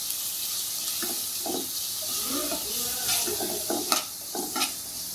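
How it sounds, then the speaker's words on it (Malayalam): Chicken 65 pieces are stirred in a hot pan, with a steady sizzling hiss of frying under scraping, sliding strokes of a spoon, close and moderately loud. "ഇത് നല്ലപോലെ ഒന്ന് ഇളക്കി കൊടുക്കാം."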